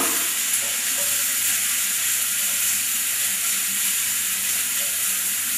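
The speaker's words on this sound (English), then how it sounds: "Fry the onions a little until they're golden brown." Onions fry in a hot oiled pan with a continuous close sizzle and crackle, steady and even throughout, with no talking.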